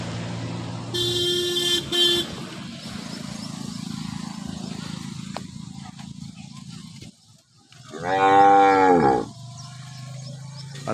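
Dairy cows that calved within the last five days, kept at a farm in Tharad, Banaskantha, let out two deep, drawn-out moos: one near the start and a louder one toward the end, over a low hum of background noise.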